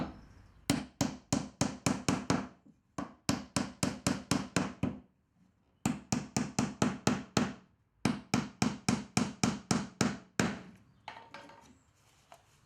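Thin 40mm lost head nails driven into wood with a hammer: close, sharp strikes in rapid bursts of about eight to ten blows each, separated by brief pauses, with no talking.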